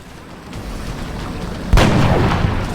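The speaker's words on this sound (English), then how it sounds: "Gonna take a shot at that one." A single sharp sniper rifle shot rings out in the XCOM Enemy Within video game during an assault on a landed UFO. It is loud and close, with a rumbling tail after low game ambience, and no one talks.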